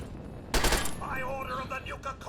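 Gunfire in Fallout 3: a sudden burst of shots erupts about half a second in, loud and close, then gives way to lingering ringing tones and ambient game sounds.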